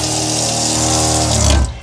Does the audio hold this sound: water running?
yes